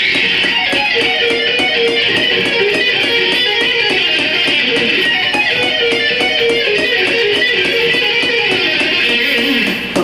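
Fast guitar string arpeggios played with a metronome click, a dense, steady stream of rapid picked notes running continuously and loudly throughout.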